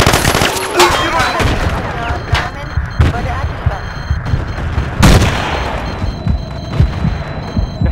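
Battlefield 2 combat rings with bursts of gunfire and sharp explosive booms, including a loud grenade blast partway through, amid rapid scattered shots and brief radio-style voice callouts.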